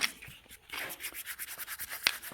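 Surface rust being scrubbed off a car's third member, a quick rhythmic rasping of repeated abrasive strokes, close and moderately quiet with no voices.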